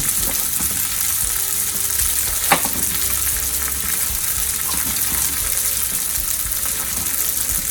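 Hash browns browning in a pan for a bacon and radicchio frittata, giving a steady, close, even sizzle throughout with one sharp clink partway through.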